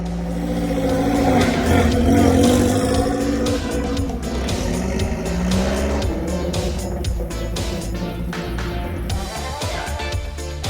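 A Bentley car engine accelerates hard and close, its loud, steady roar climbing in pitch in repeated surges that suggest quick gear changes, continuous throughout with no break.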